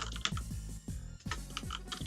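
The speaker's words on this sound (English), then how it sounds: "I'm typing into the chat." Fingers typing on a computer keyboard into a chat during a racing time-trials tournament stream, rapid close key clicks in bursts over a low background music bed.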